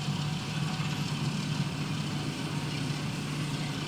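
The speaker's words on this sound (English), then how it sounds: "As you can hear, Diesel's engine note change." Diesel locomotive engine in Train Sim World 5, a steady low droning note with a constant hum, running continuously and fairly loud with no talk over it.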